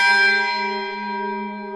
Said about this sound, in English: First morning bells signaled time for morning prayers while kneeling.